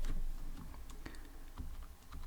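Typing on a computer keyboard, quick soft key clicks in an irregular run over faint background hiss, close but quiet, with no voices.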